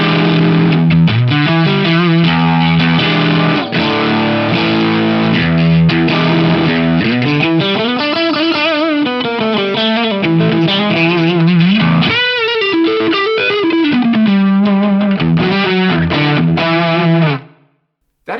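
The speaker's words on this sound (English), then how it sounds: "That's kind of a texture of distortion I'm not super used to." Electric guitar run through a BOSS Waza Craft distortion pedal with the drive turned up, a dark, saturated sustained tone with bending notes and chords, loud and continuous before cutting off near the end.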